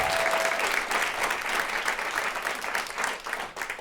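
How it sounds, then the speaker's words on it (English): Live audience at a literary event applauds an award-winning author, dense continuous clapping with slight swells and a fade near the end. "Yes, let's clap."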